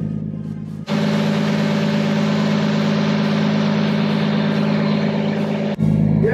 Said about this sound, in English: You want to turn the engine on too?